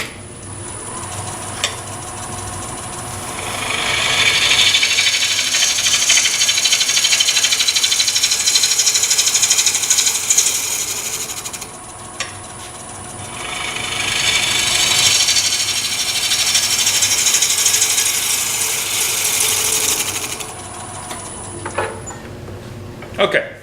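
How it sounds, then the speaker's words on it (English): A bowl gouge makes facing cuts across a wooden bowl blank spinning on a lathe, giving two long, loud stretches of hissing, rasping shaving, each several seconds long, with quieter lathe hum between and after. "So let me make a couple of facing cuts to get this surface flat."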